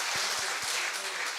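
Brief burst of audience clapping at a Hindi kavi sammelan poetry gathering, dense and steady from a nearby crowd, with a few stronger low thumps near the start.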